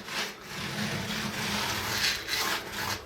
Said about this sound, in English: take your finger, rub it on the center first, spread out all that ballast, get it into the ties